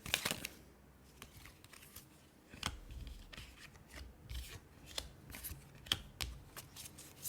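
Tarot cards are shuffled by hand, soft papery riffles and rubbing flicks in irregular bursts, faint and close, without talking.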